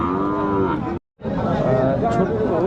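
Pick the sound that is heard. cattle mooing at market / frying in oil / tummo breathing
cattle mooing at market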